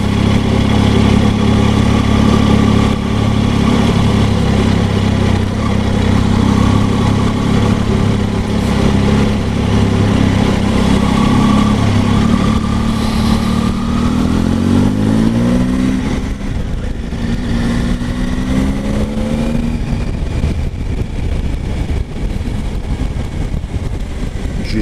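A 2019 Triumph Tiger 800 XR three-cylinder motorcycle engine idles loud and close, then revs up and settles in smooth rising and falling sweeps, running continuously with no talk.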